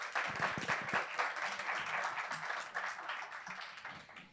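An indoor audience at a climate and water talk applauds steadily with dense, sustained clapping that continues for several seconds before starting to fade.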